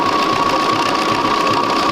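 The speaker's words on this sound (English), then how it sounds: "I'm just stitching very fast." Sewing machine stitching fabric at high speed, a fast, even mechanical whir with a steady hum, close and continuous throughout.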